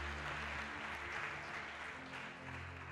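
A church congregation claps and cheers during a worship service, a dense, steady wash of applause filling the room over sustained keyboard or organ chords for about three seconds.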